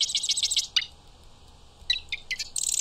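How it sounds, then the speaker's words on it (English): Randomized bird song built from segmented call pieces in a game audio engine: bright high chirps and trills in quick bursts, a flurry at the start, a short pause, then more chirps building into a dense trill at the end. "every time I play it, we get a different song from this bird"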